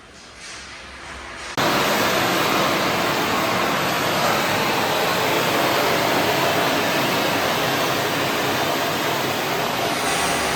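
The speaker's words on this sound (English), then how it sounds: "High pressure use the high pressure water grinding." A high-pressure water grinding machine in a gummy-making machine factory kicks on and roars with a loud, steady broadband rush of spraying water that continues unbroken.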